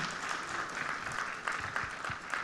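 Steady applause from a crowd, a continuous wash of clapping at moderate distance without voices.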